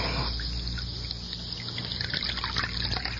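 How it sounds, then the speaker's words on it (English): Coffee poured into a cup in a radio drama, a steady close trickle of liquid lasting a few seconds with no talk over it. "Let me pour you some coffee."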